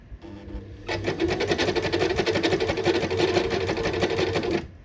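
A sewing machine stitches shirring lines on a dress fabric, running steadily and loudly for about four seconds with a rapid even whir after a brief quiet start.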